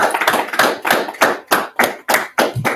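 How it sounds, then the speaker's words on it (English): An audience claps in slow, loud unison, about nine sharp group claps spaced roughly a third of a second apart, near and with no talk over them. "Let's clap it up"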